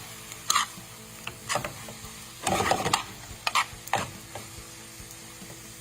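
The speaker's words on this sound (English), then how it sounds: "And then we take the onions and we slowly saute them in a pan." Onions sauté in a pan with rendered beef tallow, a soft sizzle broken by several sharp bursts of stirring and scraping; one word is spoken briefly.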